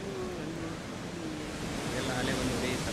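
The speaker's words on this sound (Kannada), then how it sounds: "ಸಮುದ್ರದ ಅಲೆಗಳ ಅಬ್ಬರ ಕೂಡ ಜೋರಾಗ್ತಾ ಇದೆ" Rough sea waves pound the shore at Gujjarbettu Beach during heavy rain, forming a dense, continuous roar with wind buffeting the microphone and a voice talking over it.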